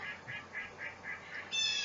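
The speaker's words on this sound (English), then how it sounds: "There are my ducks. They're waiting to be fed." Ducks quack repeatedly in a steady series of moderately loud calls, with a louder, denser burst of quacking at the end and no talking.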